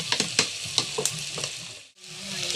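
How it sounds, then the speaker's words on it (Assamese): Spiced chicken curry with meat masala and red chilli fries in a pan while a spoon stirs it, with soft scraping taps over a constant close sizzle that dips briefly near the end. "এতিয়া লৰাই দিছোঁ ধুনীয়াকৈ, মিক্স হৈ যাব।"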